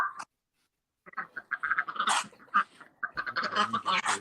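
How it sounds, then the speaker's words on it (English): Several ducks quack in a quick run of short, nasal calls, fairly close and moderately loud, starting after a brief silence and continuing in irregular bursts. "I'm about to hear some ducks here in a second."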